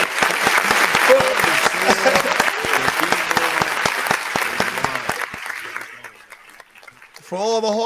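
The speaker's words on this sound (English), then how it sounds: "Can we get a round of applause?" A studio audience gives a lively round of applause with distinct claps and cheers that fade out after about five seconds, and then a voice starts talking near the end.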